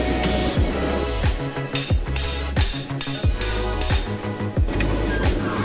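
Loud hammering on a metal plate while blacksmithing a scroll plant holder, about eight or nine sharp ringing clangs in a steady rhythm, close and harsh, with no talk.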